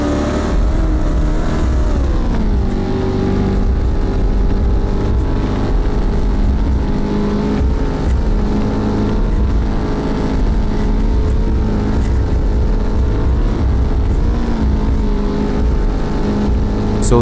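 A V8 car with big wheels in the video game Untitled Trip 2.0 drives across desert terrain, a loud steady engine drone that dips in pitch early on and then holds, rising slightly at moments.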